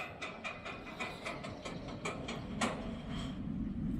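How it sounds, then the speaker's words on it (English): An empty roller coaster train runs along the track at Drayton Manor, a distant rolling rumble under a rapid series of metallic clicks and clacks that fade into a steadier low roar. "They're just sending an empty train around."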